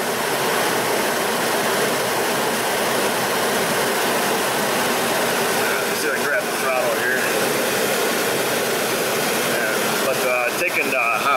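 A Mazda B3000 / Ford Ranger engine with a lean misfire (code P0171) runs rough, a loud continuous close-up roar that fills the whole stretch with little variation.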